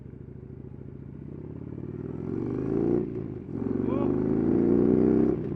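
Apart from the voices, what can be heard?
motorcycle engine revving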